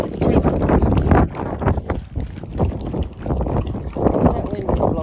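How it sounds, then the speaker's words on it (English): Wind blows outdoors where bullmastiff puppies are kept, buffeting the microphone with a loud, continuous rumble and gusty swells throughout, while voices may be faintly present. "That wind is blowing a little."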